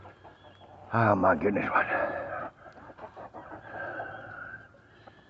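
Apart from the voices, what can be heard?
many chickens clucking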